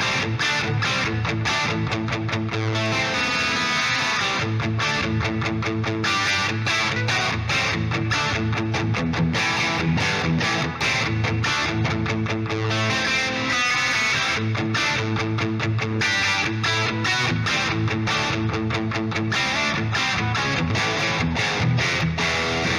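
Electric guitar played through a Bogren Digital S_Zero 100 amp simulator, miked with a single SM57 on a vintage cabinet in an 80s style: a continuous, dense, distorted riff with steady rhythmic picking, loud and alone throughout.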